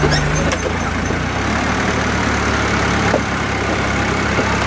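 A car engine pulls steadily in first gear on a wet road, a loud, constant low drone and rumble with little variation and no talking.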